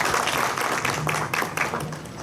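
An audience at a medical ultrasound workshop gives a round of applause to welcome the session chair, a dense, fairly loud patter of clapping filling the room with no speech over it.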